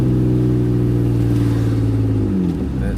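Mitsubishi Eclipse engine heard from inside during a drive, a loud, deep rumbling drone with strong low harmonics that holds steady and then dips as the revs fall near the end, with no talk.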